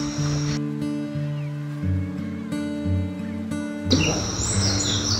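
Morning birds at a homestay in misty Darjeeling chirp and tweet over a sustained tonal hum, and their calls grow brighter and busier near the end.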